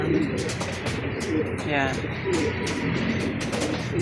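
Pigeons coo steadily in a loft, a soft rolling coo repeating close by beneath someone talking in Filipino.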